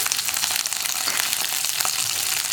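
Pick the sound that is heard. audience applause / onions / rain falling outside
onions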